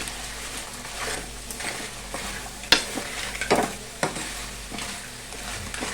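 Card curry cooking with ginger garlic paste is stirred in a hot pan, with a steady sizzle and a few sharp scrapes and clinks of the spoon against the metal.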